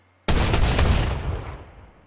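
Drum shotgun blasts hitting a wooden structure in Fortnite: one sharp, loud onset followed by a dense, ragged burst of shots that tails off over about two seconds, heard alone without talk.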